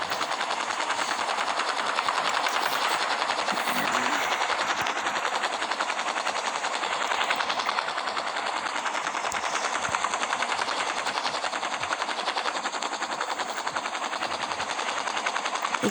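Helicopter in the mobile game Real Gangster Crime, a steady, dense rotor-and-engine drone holding at constant loudness throughout with no talking.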